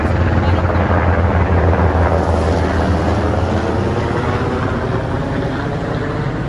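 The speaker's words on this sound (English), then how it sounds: "it's like a medical chopper" A medical helicopter on an airlift passes overhead above a cottage garden, its steady rotor chop loud and continuous throughout, with faint voices underneath.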